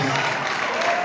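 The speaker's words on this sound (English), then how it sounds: "Give them a round of applause, please" Audience applause at an evening community gathering in Roxbury, a dense, steady clapping wash filling the short stretch at fairly loud level.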